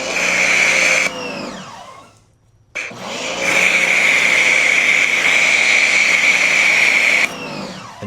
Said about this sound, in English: And then you push it up to spray out of the foam cannon.